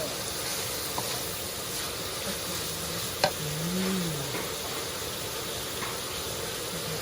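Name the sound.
frying duck offal in a pan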